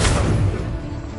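Confringo blasting curse in Hogwarts Legacy, a short heavy explosive boom with deep rumble, loud at the start and fading over about a second.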